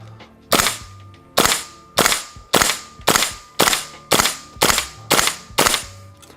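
A KWA LM4C gas-operated airsoft rifle fires ten sharp, loud semi-automatic shots at a steady pace of about one per half second inside a warm warehouse, each crack followed by a brief mechanical clack and short tail.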